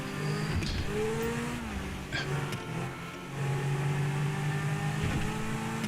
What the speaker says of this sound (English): This car has one of the best engine sounds in the game, in my opinion.